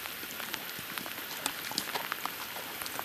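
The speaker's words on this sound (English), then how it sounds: "The same weather that rolled in rained on us for the next day and a half" Rain falls steadily at Stephan Lake Lodge, a dense even patter of drops with a few sharper nearby taps, moderately quiet with no voices.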